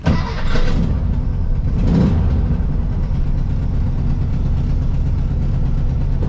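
A 1958 VW Beetle engine, just back from a valve job, cranks briefly and catches, then settles into a loud, steady low idle close by. No one speaks.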